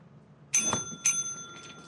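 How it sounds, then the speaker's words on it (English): Ship bell in the game Lethal Company rung twice in quick succession, bright ringing strikes that hang briefly with a faint trailing tone. "Did you ring the bell at least?"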